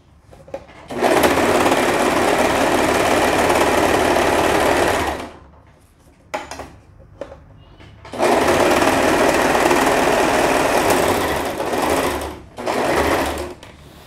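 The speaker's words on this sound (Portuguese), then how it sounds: "Você vai colocar no zigue-zague e costurar normalmente, igual eu tô fazendo aqui." A sewing machine stitches zigzag while attaching elastic to pajamas, running loud and fast in two long bursts with short stops and a brief final run between them.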